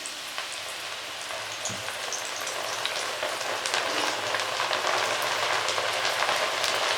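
Moong dal nimko frying in hot oil, a steady, dense sizzle and crackle like rain on a surface, building slightly louder toward the end, with no talking over it.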